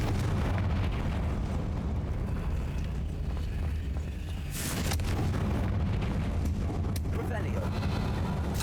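Confringo blasting spells detonate in Hogwarts Legacy, with a steady low rumble broken by sharp explosive bursts near the middle and a second crack later, all loud and close.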